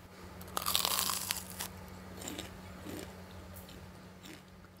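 Crispy fried meatballs (bakso goreng) are bitten with a loud crunch close to the mic, followed by softer, scattered chewing crunches over a low steady hum.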